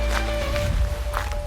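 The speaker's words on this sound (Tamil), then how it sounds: "இருவரும் நடந்து கொண்டிருந்த சமயத்தில் பின்னால் யாரோ நடந்து வருவது போல் உணர்வு." Footsteps of someone walking behind in the rain, a few soft steps over a dense, steady background of rainfall and low rumble.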